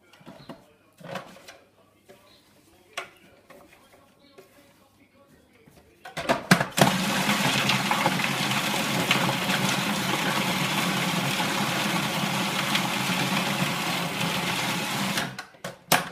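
A blender whirs steadily as it chops comfrey and mustard leaves, starting abruptly after a few quiet taps and running loud and continuous until it cuts off.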